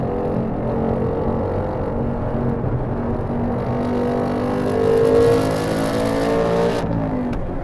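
A 2021 Ford Mustang Mach 1 with the Handling Package pulls hard around the Road America race track, its engine droning loud and steady with a rising rev, heard from inside the car with no talk.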